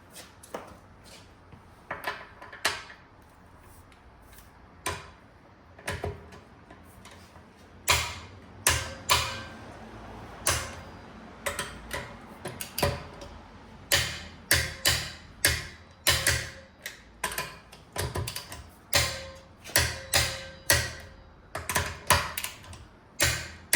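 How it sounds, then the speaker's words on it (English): Torque wrench tightening the wheel bolts on a 2025 VW Jetta GLI, giving a run of sharp, close mechanical clicks that come in quick bursts and grow denser and louder toward the end, with no talk. "now I'm going to torque all the wheel bolts to 88 foot-pounds or 120 newton meters"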